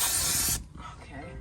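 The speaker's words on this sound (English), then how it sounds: "spray some glue on it and try to work it in there without getting it all over everything" A short, loud hiss of spray adhesive blasts for about half a second inside a van, then stops abruptly, leaving quiet rustling.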